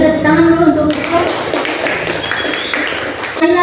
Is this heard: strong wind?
no